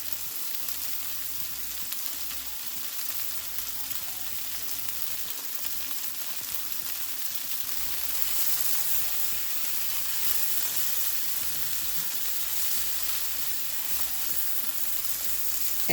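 A vegetable stir fry sizzles steadily in the pan as fresh herbs are added, a loud continuous frying hiss that runs the whole time with no talking.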